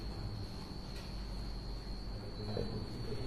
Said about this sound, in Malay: Yang bunyi ni bukan aircon. Cengkerik.